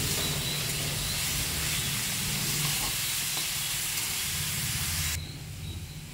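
Mushrooms stir-fried in oil with spinach, a steady close sizzle and hiss of moisture cooking off, continuous and fairly loud until it drops quieter near the end.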